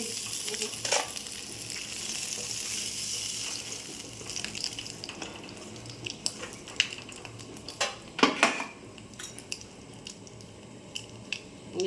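Bay leaves, dried red chilies and Bengali five-spice tempering sizzle in hot oil in a pan used for frying fish, a steady crackling hiss with scattered sharper pops and stirring clatter, close and fairly loud, no talking.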